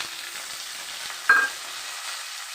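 Chopped tomato drops into hot oil where mustard seeds have been crackled with a ladle, setting off a sharp burst of sizzling over a steady, quiet frying hiss.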